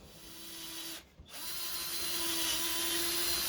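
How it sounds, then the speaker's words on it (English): A multi-material builder's drill boring into wood, a loud sustained whine that cuts out briefly near the one-second mark and then spins back up steadily, close by, with no talking. "It's a bit of a rubbish drill with this."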